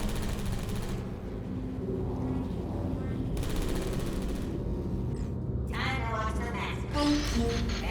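An in-game turret fires rapid, steady bursts throughout, fairly loud and continuous, with a voice talking over it at times.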